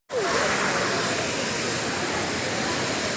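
A waterfall at Manimutharu roars close by, a dense, even rush of falling water that starts abruptly and holds steady without pause.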